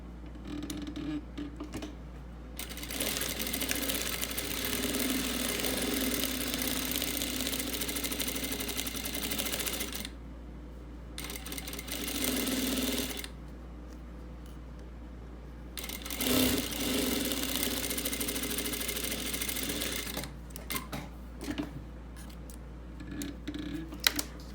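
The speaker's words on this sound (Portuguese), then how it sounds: "Aí eu vou lá e eu costuro essa parte inteira." A sewing machine stitches a quilt block seam in several runs of steady mechanical whirring, pausing briefly between bursts over a low background hum.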